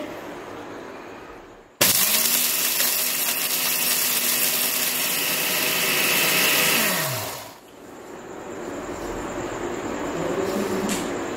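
An electric grinder powders whole spices, including mace, into nehari garam masala. It switches on abruptly into a loud, steady, high-pitched whir that runs for about six seconds, then winds down and stops.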